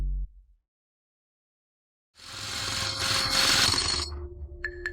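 An electric drill bores into special-quality glass, starting abruptly after a short silence as a loud, dense grinding whine that holds steady for a few seconds before easing with small stutters.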